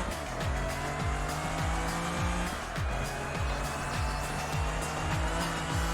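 In the racing game Project Gotham Racing 3, a car brakes hard into a corner with repeated engine downshifts and tyre squeal, loud and continuous engine noise throughout.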